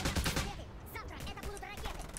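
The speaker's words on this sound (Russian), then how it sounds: "Можно я останусь за этим пулеметом, а?" A mounted machine gun rattles in Just Cause 2, a quick burst of rapid shots lasting about two seconds, with a voice talking over the gunfire.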